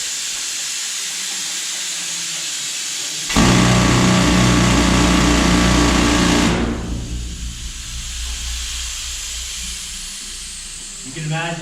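A pneumatic rock drill roars to life underground in the Old Hundred Gold Mine, Silverton, with a loud hissing, hammering rattle, runs steadily for a few seconds, then winds down into echoing hiss.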